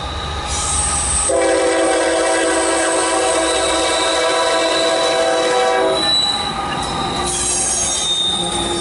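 An HO scale model BNSF train departs the Fall River Division layout with sustained high wheel squeal and a horn-like tonal blast, loud and close, fading slightly near the end.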